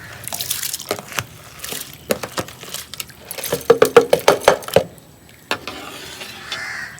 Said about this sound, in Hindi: तो अभी इन चावलों को डाल देते हैं जी इधर ना पानी में।